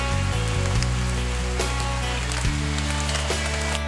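Steady rain falls outdoors at night, a dense even patter on surfaces around a backyard worm composting bin, with low hum beneath and no voices.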